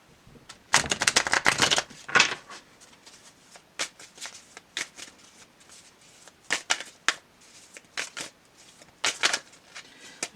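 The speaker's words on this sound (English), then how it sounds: "Shuffle this a little bit more." Tarot cards are shuffled in several quick riffling bursts, close and crisp, separated by short pauses with soft handling sounds.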